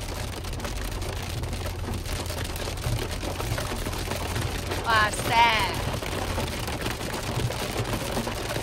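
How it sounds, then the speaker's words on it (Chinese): Sudden hail pelting the roof of a parked car on a mountain road in cold weather, a dense steady patter of small impacts close by, with an excited voice exclaiming over it. "冰雹说下就下"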